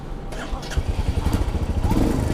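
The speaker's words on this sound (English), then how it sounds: "So now let's start the bike." A Royal Enfield Meteor 350 motorcycle engine starts up and settles into a close, lumpy, thumping rumble, with a voice heard faintly alongside it.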